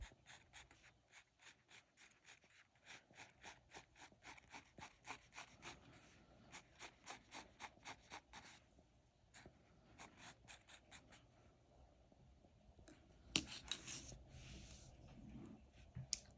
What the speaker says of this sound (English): I'm going to go all the way around, nice and light with my pencil